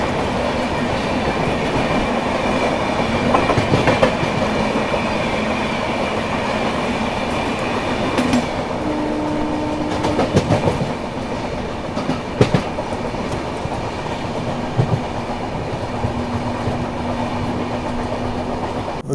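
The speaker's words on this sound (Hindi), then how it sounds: "ये बगल से ये आ गई है नई दिल्ली डिब्रूगढ़ राजधानी एक्सप्रेस वाया मुरादाबाद वाली" The New Delhi–Dibrugarh Rajdhani Express via Moradabad runs alongside, heard from a moving train as a steady loud rumble with clattering wheel clicks and faint squeals throughout.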